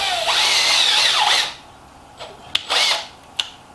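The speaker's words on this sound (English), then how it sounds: "The drill bit goes through the plastic." A power drill whines as its bit bores through plastic for about a second and a half, then two shorter bursts follow with clicks between them.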